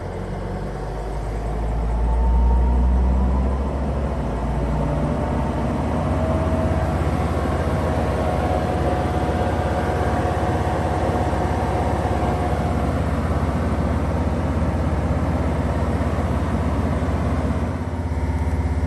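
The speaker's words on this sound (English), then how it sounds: "This is a single stage, high RPM." A Mercedes T1N Sprinter van's engine holds a steady high idle, a continuous close drone with a low rumble that stays even throughout, swelling slightly early on.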